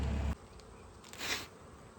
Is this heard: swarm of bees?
yes